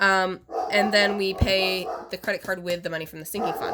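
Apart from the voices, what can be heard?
dog barking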